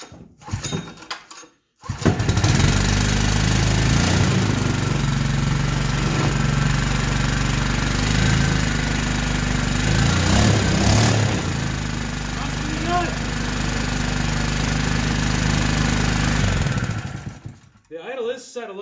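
A Honda GX120 big valve hybrid small engine idles slightly high, with a steady, loud, close mechanical chug after a brief start, then cuts off near the end.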